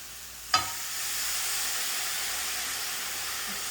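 Mushrooms with Worcestershire sauce hit a hot pan with a sharp splash, then sizzle and fry steadily, a bright continuous hiss close by and alone.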